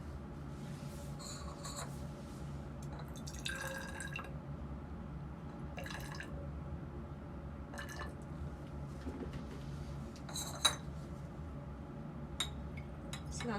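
Liquids poured while mixing acetone and deionized water into a solvent mixture in a lab, heard as soft, faint trickling and dripping with scattered clinks and rubbing sounds over a low background hum.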